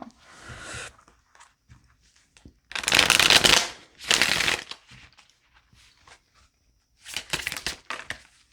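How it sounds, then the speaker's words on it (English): Tarot cards shuffled and pulled from a deck, with crisp riffling bursts near at hand, two long shuffles in the middle and another at the end, separated by soft card handling and quiet pauses. "I'm for some reason getting the need to pull more cards"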